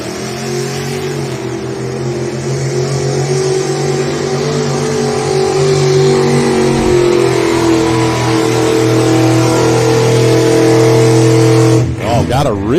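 An Oliver tractor sits on the start line at a 2024 truck and tractor pull, its engine running loud and close as a steady rumbling drone, with a sharp surge of revving right at the end.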